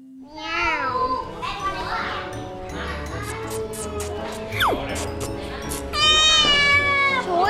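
Several cats meow repeatedly in a cat café, their rising and falling calls close and fairly loud, overlapping with a voice, people talking and light tinkling in a busy indoor room.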